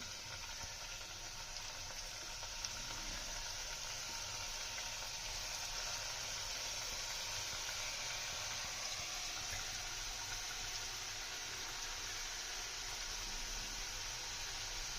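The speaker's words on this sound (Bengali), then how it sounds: "আমরা এদিকে কড়াইও বসিয়ে দিয়েছি তেল গরম হয়ে গেছে আমরা পিঠেগুলো দিয়ে দেবো" Filled mung dal pitha frying in hot oil in a wok, a steady, even sizzling hiss that holds unbroken throughout, close and moderately loud with no talking.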